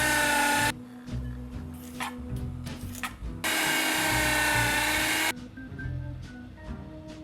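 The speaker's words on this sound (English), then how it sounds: "I'm gonna quarter these and sticking them in a food processor on the shred option" A food processor shreds quartered cabbage in two loud, steady whirring bursts, with quieter clatter and handling noises between and after them.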